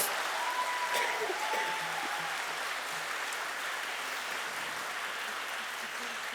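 A conference audience applauds for Barbara, a dense continuous wash of clapping from a large crowd that holds steady and tapers slightly, with faint voices mixed in.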